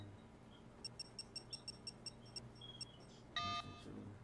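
A phone in the Sleeping Dogs video game gives a quick regular series of about ten short high beeps, followed by a brief louder electronic tone, all over a quiet background hum.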